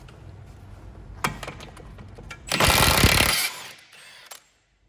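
On a VW Polo, a 36mm socket on a 1/2 inch adapter undoes the front drive shaft centre nut, with metallic clicks, a loud grinding burst of about a second, then a short softer rattle before going quiet.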